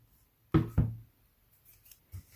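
A paper card is tapped twice on a hard surface to shake off loose white embossing powder, two sharp close knocks in quick succession followed by faint light handling noises.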